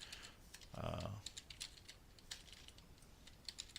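Quiet rapid typing on a computer keyboard, a steady patter of soft key clicks with a brief low thump near the start, close but faint.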